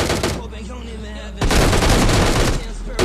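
Loud S12 shotgun blasts from a battle royale video game ring out in two heavy bursts close to the listener, with game ambience between and no one speaking.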